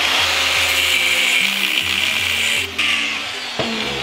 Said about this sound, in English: first gonna cut a line into the threads